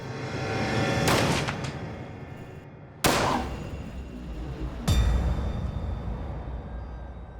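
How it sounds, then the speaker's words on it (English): A handgun fired in a bedroom during a true-crime reenactment: three loud, sharp bangs spaced a couple of seconds apart, each with a booming, reverberant tail over a low continuous rumble. "she takes his gun and pulls the trigger"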